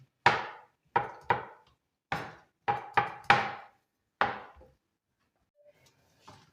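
Eight sharp knife strikes chopping mushrooms on a cutting board in an uneven rhythm, close and clear, then a quiet pause with faint rustling at the end.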